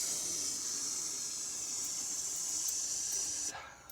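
During a playful yoga sun salutation, a voice imitates a cobra's hiss with one long, steady, breathy exhale that holds for several seconds before cutting off abruptly.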